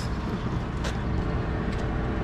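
A Transurb city bus crossing a bridge in Lambaréné gives a steady, loud roadway rumble that holds for the whole stretch, with one brief hiss partway through and no talk.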